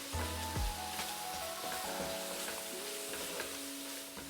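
Spices frying in a tomato masala base for mixed bean curry, a steady close sizzle with occasional knocks and scrapes of a spoon stirring through the pan.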